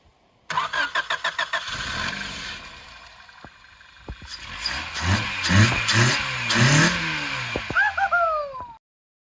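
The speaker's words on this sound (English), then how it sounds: "now that we got the car started and running" A Honda Civic EF9, abandoned and under restoration with its fuel tank hanging loose, cranks in several rapid bursts, catches, and settles into a rough idle with a few throttle blips, all close and loud.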